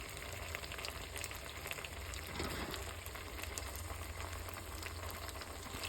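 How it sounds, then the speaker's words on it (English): Pot of noodles coming to a boil on a stovetop, a steady bubbling, hissing wash of water that stays even and fairly close throughout, with no talking. "take them out as soon as they start boiling, like now."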